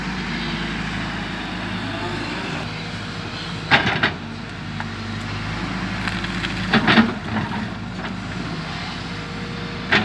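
A new red farm tractor engine runs with a steady, loud drone that continues throughout, with a few brief mechanical bumps and clatters over it.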